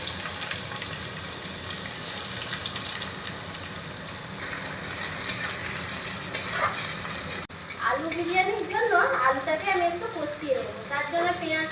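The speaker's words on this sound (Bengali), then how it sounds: "ওই তেলের মধ্যে আমি দিয়ে দিচ্ছি আবারও পেঁয়াজ" Onions fry in hot oil for biryani with a continuous bright sizzle throughout; after a brief dip, a voice speaks over the louder crackling in the latter part.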